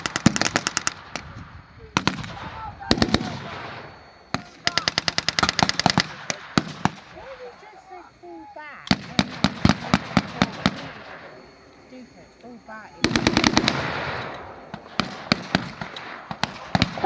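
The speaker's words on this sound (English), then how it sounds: "As the gunfire eases," Bursts of rapid automatic gunfire in a WW2 battle re-enactment crackle in long volleys, separated by short lulls, loud and sharp against a quieter battlefield background.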